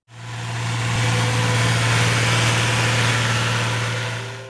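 A vintage tractor engine running at a steady idle, with a strong low hum that swells in quickly and holds constant, loud and close with no voices.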